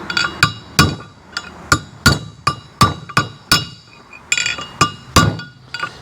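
Repeated metal-on-metal hammer strikes drive a race punch around a trailer wheel bearing race to seat it, a dozen sharp ringing clanks at a steady, slightly uneven rhythm, close and loud with no talking.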